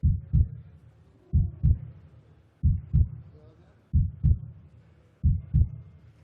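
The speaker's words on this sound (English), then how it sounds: "I think they do the heartbeat thing on purpose in the background just to make everybody there nervous." At a STIHL Timbersports European Nations Pro Cup event, a heartbeat sound effect plays in the background: deep, regular double thumps about every 1.3 seconds, loud and clear with no talk over them.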